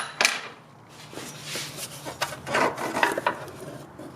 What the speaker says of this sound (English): you just should be able to just slide this mount up after wiggling it around